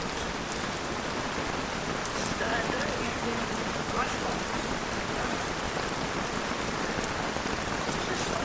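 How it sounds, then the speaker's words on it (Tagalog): Heavy rain falling at a campsite on Isla Chica, a dense, steady hiss of downpour on surfaces with scattered droplet patter, continuous and close throughout. "Lakas ng ulan mga kamukha."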